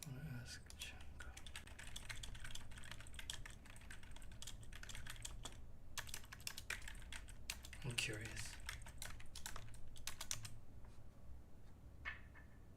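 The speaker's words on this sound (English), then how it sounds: "Sorry if I'm clacking the keyboard really loud." Quiet, close computer keyboard typing during a web development session, with rapid irregular clacks in bursts and brief pauses, and a soft voice murmuring now and then.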